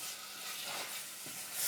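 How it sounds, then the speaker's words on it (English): Small diced venison searing in a hot pan gives a soft, steady broadband sizzle with a couple of faint stirring shuffles, moderately quiet and alone without voices. "I'm just going to sear the meat."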